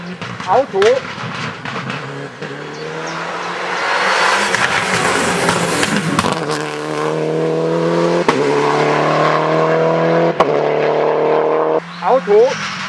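A rally car races past on a stage of the ADAC Rallye 200 Saar Ost, its engine rising loud and close, holding a revving pitch and then fading as the car moves away, with brief voices around it.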